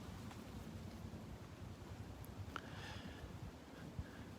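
Steady north wind gusting across a boardwalk at Delnor-Wiggins Pass State Park beach in North Naples, Florida, a low continuous rumble buffeting the microphone with a few faint brief knocks and no talking.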